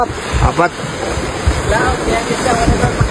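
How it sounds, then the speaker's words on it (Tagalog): Strong ocean waves surge and wash in a continuous, rough roar during a storm, with people talking faintly underneath. "Hindi kayo natatakot na gano'ng kalakas yung alon?"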